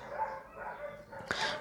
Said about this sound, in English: I'm sorry about the dogs barking, guys,